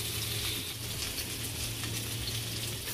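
Onions and curry leaves frying in oil with mustard seeds, a steady close sizzle throughout with light crackling and no talk.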